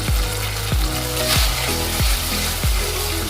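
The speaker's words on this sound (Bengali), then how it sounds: "মশলাটাকে কষিয়ে নিচ্ছি" Spice masala being sautéed in a pan for Bengali malai pabda fish curry, a steady loud sizzle broken by about five sharp rhythmic scrapes of a spatula stirring.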